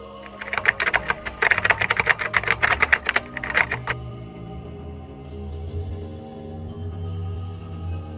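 Rapid, loud keystrokes on a library computer keyboard rattle for about four seconds, close and clattering, then stop and leave a low ambient hum.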